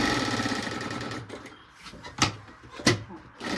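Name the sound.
sewing machine stitching fabric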